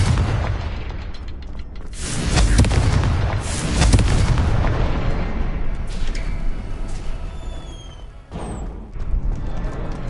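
The Confringo spell in Hogwarts Legacy blasts with a loud, booming explosion, a heavy roar swelling and rumbling for several seconds before fading into lighter magical zips and a final thump.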